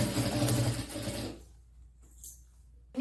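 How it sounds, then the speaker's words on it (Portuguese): A sewing machine stitches the gusset of a large backpack panel, running with a fast mechanical whir for over a second before stopping, leaving near silence and a faint clunk. "vou vir pra máquina e vou fechar esse fole"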